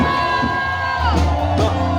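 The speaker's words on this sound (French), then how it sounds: "Est-ce que quelqu'un peut pousser des cris de joie au Seigneur?" A congregation at a wedding consecration service in Yopougon cheers and whoops for joy over sustained music, with overlapping voices, shouts and a rising crowd roar near the end.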